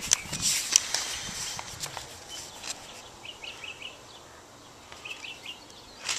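A bird calls in a cemetery with short chirping phrases repeated a few times at moderate distance, over faint footsteps and rustling handling noise.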